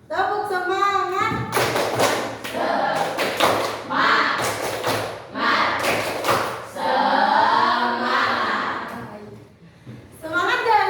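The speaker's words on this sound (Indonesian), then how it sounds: "ibu ingin supaya kita bertepuk semangat dulu, yang semangat ya. Tepuk semangat." Fifth-grade schoolchildren in an Indonesian science classroom perform a rhythmic spirit clap: crisp, patterned bursts of clapping in short groups, alternating with loud, chanting voices of the class and the teacher.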